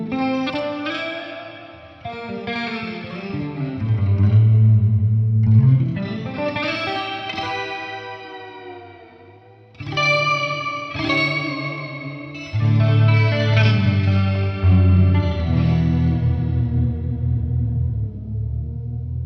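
Sustained guitar played through a multi-effects pedal running Beebo firmware on a strange reverb setting, chords swelling into a thick, washy, chorus-tinged tail with distortion, loud and continuous with a brief dip before picking back up.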